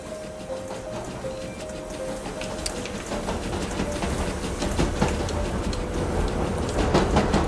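A train in the Roblox game Jailbreak rumbles past with rhythmic clattering and steady mechanical noise that grows gradually louder, with a faint tonal hum early on.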